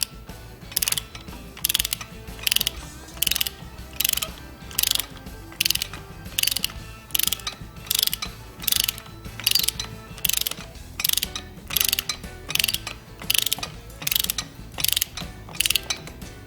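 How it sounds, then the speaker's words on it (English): Torque wrench ratcheting in steady, evenly spaced bursts of clicks while a bolt is tightened to specification on a Roadster English with the crankshaft locked, loud and close with no talking. "Now we're going to torque it to specification."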